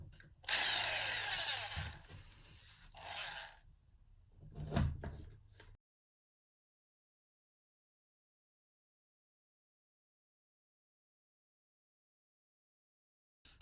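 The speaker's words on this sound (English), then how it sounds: "then we've got a jigsaw with a small a blade designed for sheets of wood." A jigsaw with a small blade cutting through sheet material, a loud close buzzing cut lasting a few seconds followed by a short knock, then silence.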